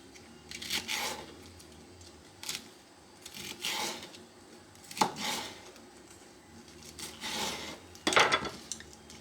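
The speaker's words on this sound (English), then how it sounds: "And I just cut in slices like this" A knife slices through fresh tomatoes and peppers on a cutting board in a quiet kitchen, making soft scraping and chopping strokes at uneven intervals, close by.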